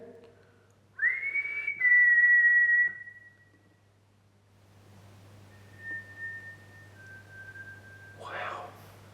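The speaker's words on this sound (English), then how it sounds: "I just heard a whistle." A whistle in the quiet of an old prison during a ghost hunt. First comes a sustained, slightly wavering tone, then after a pause two fainter long whistled notes over a low hum, with a brief soft voice at the end.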